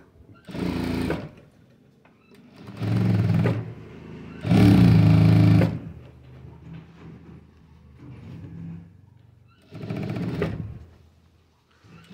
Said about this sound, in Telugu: ఇలా మడత పెట్టి పై నుంచి మళ్ళీ ఒక స్టిచ్చింగ్ వేసేసుకోవాలి